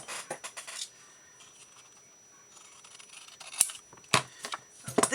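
Scissors snip paper for a craft tag: a few crisp cuts at the start, a quiet stretch, then a cluster of sharp close snips near the end.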